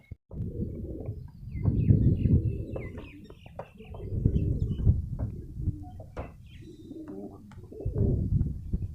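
A pigeon coos in repeated low, throaty bursts close by while it is handled and shown, with soft rustling in between and the cooing swelling and fading over several seconds.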